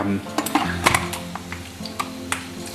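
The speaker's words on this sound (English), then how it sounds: "So I'm going to toss in the pumpkin." Pumpkin pieces drop into a pot of curried sausage with a few sharp clanks and knocks against the metal, followed by light stirring and quiet sizzling, close and brief.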